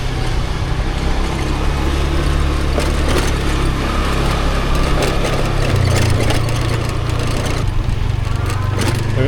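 A scooter engine hums steadily at close range while riding through a busy street in Phu Quoc, Vietnam, with traffic noise and clatter around it.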